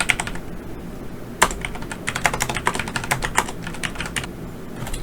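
Fingers type on a computer keyboard while entering figures into an Excel spreadsheet for an ITQ exam problem. Close, quick keystrokes come in irregular bursts with brief pauses, and a sharper clack lands near the start.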